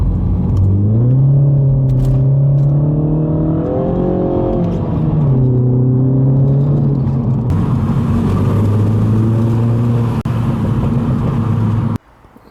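A Mini Cooper S engine with its factory intake filter revs hard while driving in second gear, its loud rising and falling drone carrying steadily for about twelve seconds before cutting off abruptly.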